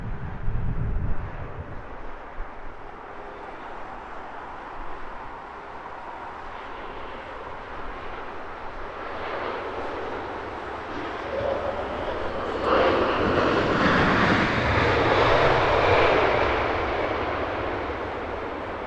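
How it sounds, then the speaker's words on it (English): An airplane comes in to land at Heathrow Airport in gusty wind, a distant broadband jet roar with wind buffeting that swells louder toward the end before easing off. "on air with a silky smooth touchdown in these gusty conditions this afternoon here at Heathrow"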